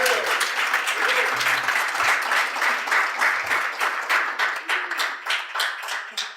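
Steady clapping from an audience at a CEO awards dinner, a moderately loud, even patter of many hands filling the room for several seconds.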